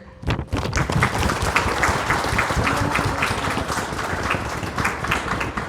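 Applause from an audience at a Psi Chi Kent State chapter induction ceremony for the new executive board, a dense sustained burst of many hands clapping that starts abruptly and keeps going steadily, fairly close.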